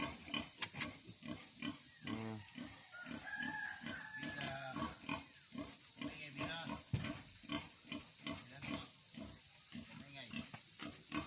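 Pigs, including a sow, grunting and oinking repeatedly in a noisy pen with piglets, with rhythmic snorts and occasional louder squeals and faint background voices.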